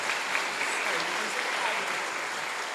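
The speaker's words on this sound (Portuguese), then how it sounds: "uma salva de palmas, glória a Deus" A congregation at Christmas Day mass breaks into sustained applause, a dense even wash of clapping that fills the church, with a faint voice or two mixed in.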